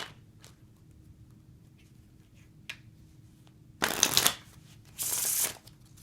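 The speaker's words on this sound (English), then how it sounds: "all you have to do is open up the fingers and you can bridge the cards." A deck of playing cards gets a riffle shuffle and bridge close up: a quiet steady rustle with faint taps, then a loud buzzing burst of riffling, a short pause, and a second crisp riffle as the cards cascade.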